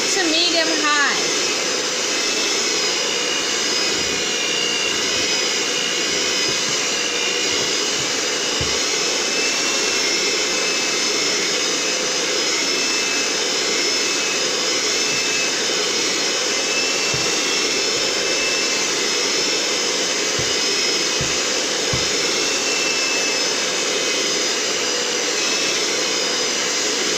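An electric mixer runs at medium-high speed through banana bread batter, a loud, steady motor whir that continues unbroken, with a few faint knocks of the beaters against the bowl.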